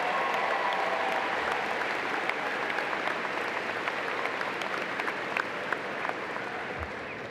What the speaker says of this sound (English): Let's give another big round of applause to the band.